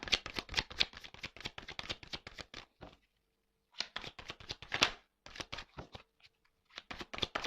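Tarot cards shuffled and cut by hand in a quiet room, a dense rapid riffling clatter that stops for about a second, then resumes in several close, crisp bursts.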